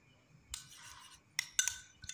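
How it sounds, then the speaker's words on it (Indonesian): Seasoned cooking mixture stirred in a pan: a few short scraping, clinking strokes of a utensil against metal, separated by pauses, close and fairly quiet with no talking. "lanjut kita aduk sampai tercampur merata"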